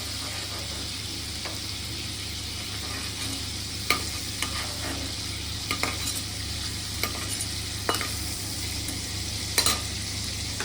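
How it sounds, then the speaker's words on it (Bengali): Prawns fry in hot oil with a steady, close sizzle, punctuated by occasional sharp clicks and scrapes of stirring, with no talking. "চিংড়ি মাছটা আমার ভাজা ভাজা হয়ে গেছে"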